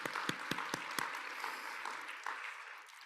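An audience at an opening ceremony at Mystic Lake gives a short burst of clapping, with a few sharp claps up front that quickly thin out and fade.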